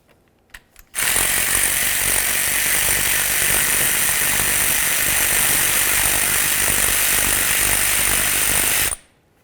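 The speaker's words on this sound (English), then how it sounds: "Loosen that nut." Impact wrench or power ratchet loosening an 11mm nut on the power steering pressure hose of a 2003-2011 Mercury Grand Marquis, a steady, loud, buzzing whir running continuously for about eight seconds after a couple of faint clicks.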